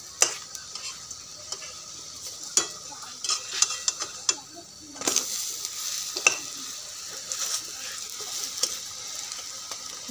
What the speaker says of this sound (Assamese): এতিয়াখিনি পিঁয়াজৰ পকৰি তো সেইখিনি ভাজি আছোঁ